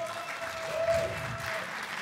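Delegates at a Berlin AfD state party convention applaud a vote result, steady crowd clapping filling the hall for about two seconds, with faint murmuring voices mixed in.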